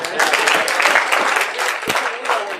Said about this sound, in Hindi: तालियां बजाओ ना यार।